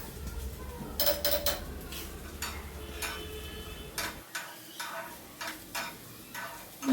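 A spoon scrapes and clinks against a pan as soya chunks roasting in ghee are turned over again and again, a busy run of metallic taps and scrapes over a faint low hum that drops away partway through.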